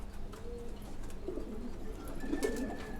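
Faint, distant cooing of domestic pigeons in a loft, soft low murmurs scattered over a steady background hum.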